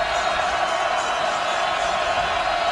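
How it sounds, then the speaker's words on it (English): Dense, roaring stadium crowd at a 2011 college football game between Miami and Florida State before about 82,000 fans, a loud, steady wash of noise with scattered whoops and no break. "From the 7 with deafening crowd noise."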